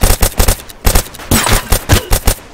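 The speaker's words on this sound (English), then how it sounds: "Oh, shot fired." Loud automatic gunfire in the video game Dead Side, repeated rapid bursts separated by short pauses, close and harsh with a longer sustained volley in the middle.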